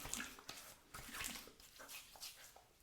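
Water splashes and trickles in short bursts as a face is rinsed off after a shave with coconut bowl lather and a Leaf Thorn razor, close and fairly quiet, with brief pauses between splashes.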